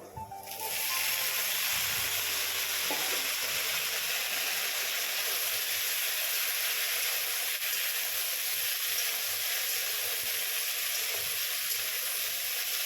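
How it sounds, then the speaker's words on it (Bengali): Onion and green chili frying in hot oil in a home kitchen, a steady loud sizzle and hiss that holds evenly for the whole stretch after a brief quieter start. "তেলের মধ্যে পেঁয়াজ দিয়েছি আর লঙ্কা দিয়েছি"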